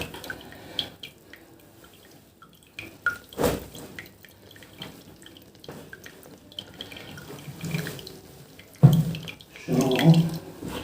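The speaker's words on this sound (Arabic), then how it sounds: "هرمي الميه دي في القعده بقى" Dirty washing water poured out at home, with splashing gushes and drips. Louder pours land near the middle and end, set among quieter trickles and handling noises.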